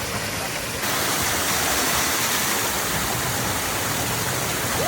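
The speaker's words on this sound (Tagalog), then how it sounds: "pero ang taas-taas ng falls" A tall waterfall at a hot spring on Camiguin roars as a steady, loud broadband rush, swelling slightly after the first second and continuing unbroken without talk.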